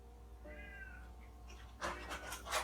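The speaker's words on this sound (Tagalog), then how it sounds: "Ang ingay ng pusa." A cat meows a few times, short drawn-out cries followed by louder, harsher yowls near the end, fairly close with a low steady hum underneath.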